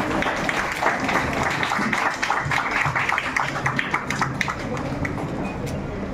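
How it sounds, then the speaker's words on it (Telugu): An audience claps for a guest honored with a shawl at a public gathering, producing dense, steady applause that fills the whole stretch at an even level. "అందరూ గట్టిగా చప్పట్లు కొట్టి అభినందిస్తామండి."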